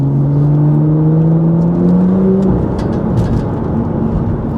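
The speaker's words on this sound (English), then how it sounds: "when you drop a gear on this thing, all it does is it over revs, and it sounds good" A stage 2 tuned BMW M2 LCI engine over-revs after a downshift, a high rising whine that drops off after a couple of seconds, steady and loud throughout.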